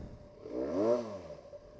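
A Benelli 300 motorcycle idles quietly with a low, steady engine hum that swells briefly in the middle of the clip and then settles back. No one talks over it.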